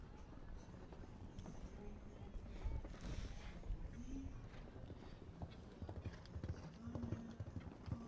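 Horse hooves clip-clopping on an outdoor show jumping course at an equestrian grand prix, with a steady run of light hoof falls under a busy arena background and commentator talk.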